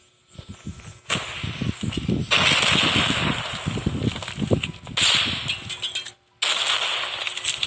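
Rapid bursts of video game gunfire crackle in dense volleys, broken by brief pauses, with occasional faint voices underneath.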